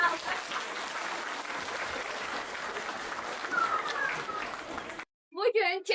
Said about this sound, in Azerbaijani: Onlar üçün bir alqış alaq